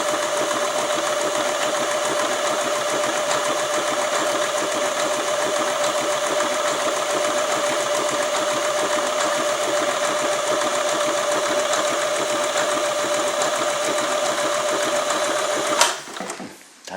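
An Elna 20 sewing machine stitching fabric runs in a fast, steady whirring hum with a rapid mechanical ticking, loud and close, then stops abruptly near the end.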